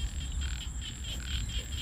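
Frogs croak near a pond in a steady run of repeated calls, rhythmic and fairly close, over a constant high insect whine and low outdoor rumble.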